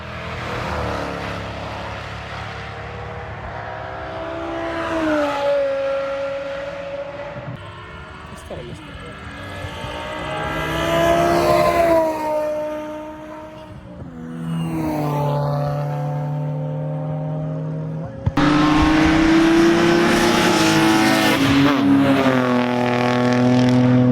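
A C5 Corvette battles a pack of E36 track cars at New York Safety Track, with loud engines continuously rising and falling in pitch through gear changes and a sudden louder surge near the end.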